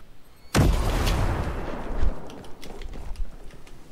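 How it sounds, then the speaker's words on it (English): A grenade blast goes off in Ghost Recon Breakpoint, a sudden loud boom followed by a rumbling tail and scattered gunfire crackling for several seconds afterward. "Grenade, take cover."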